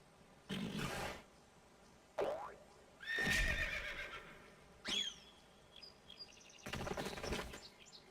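A horse in a Nintendo video game gives several loud whinnies and neighs spread across the stretch, with short shrill squeals between calls and quiet gaps in between.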